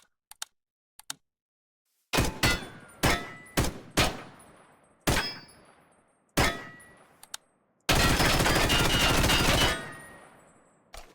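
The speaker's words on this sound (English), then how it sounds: "We got to M4A1 carbine." An M4A1 carbine in the Minecraft TaCZ gun mod fires a string of loud, separate single shots, each with a ringing tail, then a sustained automatic burst of about two seconds, all close and clear with no talking.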